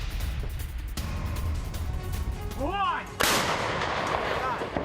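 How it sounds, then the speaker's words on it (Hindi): M777 howitzer artillery fires in the Donbas region of Ukraine: two heavy booms about two seconds apart roll out loud across open ground, with a whistling sweep between them and a long rumbling tail. "M777 होवित्जर तोपों से यूक्रेन का हमला।"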